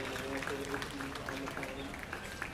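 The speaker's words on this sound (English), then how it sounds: "Let's give them all a great big round of applause" Applause from the audience at a 4-H/FFA sheep showmanship event, a steady wash of clapping across an arena with a voice talking over it.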